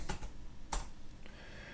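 Quick bursts of keystrokes on a computer keyboard while a button element is added in Canva, a few close clicks clustered at the start with another sharp pair partway through, alone with no talk.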